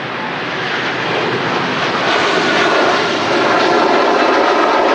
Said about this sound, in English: Here's our A330 rolling